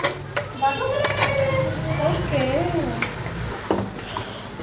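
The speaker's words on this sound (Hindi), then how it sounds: "ये भून रहे हैं अभी" Mutton sizzles and fries in a pot while being browned for pulao, with scraping stirs over a steady hiss and a voice talking on top throughout.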